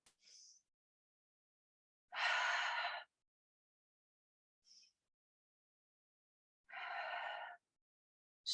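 Slow yoga breathing in a quiet room while a standing pose is held: two long, strong exhales separated by short, faint inhales, close and alone with no talk.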